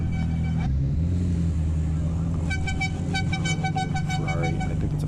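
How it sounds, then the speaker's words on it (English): Ferrari 512 TR supercar engine at a Tuscan supercar meet, running loud and continuous over steady street rumble, with horn-like tonal bursts and crowd noise around it. "As you could hear, I'm glad he stopped revving right there and didn't do it right next to me."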